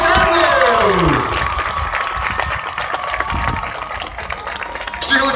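A large crowd applauds and cheers at a Unia Tarnów speedway team celebration after a home win, dense sustained clapping and shouting with whistles and voices mixed in, loud throughout with a sharp burst near the end.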